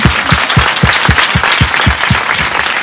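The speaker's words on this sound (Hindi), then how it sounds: "ताली बजाए प्रभु के लिए।" Audience applause at a hilltop church meeting, a sustained burst of clapping with a strong rhythmic beat, loud and steady for the whole stretch with no talk.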